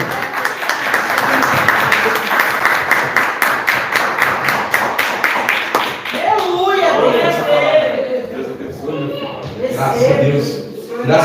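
Church congregation clapping in praise, dense rhythmic applause for the first six seconds, then fading under loud talk and voices that carry on to the end.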